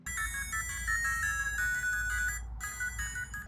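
R36S handheld game console playing a steady looping ringtone-like electronic melody through a replacement speaker, loud and continuous with a brief gap near the end, no talking.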